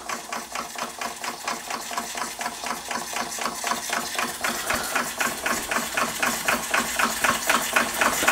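An Empire B-43 model steam engine with a hand pump runs steadily on its own, putting out a fast, even chuffing and mechanical clatter that stays close and loud throughout.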